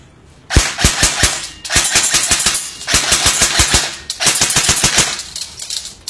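KWA Ronin PDW 6 airsoft gun firing full auto, with three sustained bursts of rapid, sharp mechanical cracks in quick rhythm, loud and close, separated by short pauses.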